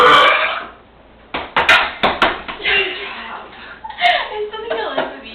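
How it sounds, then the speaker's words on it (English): A loud burp after drinking Mountain Dew opens the clip, followed by laughter and excited chatter with clattering and bumping in a room. "Oh, did we get the burping on camera?"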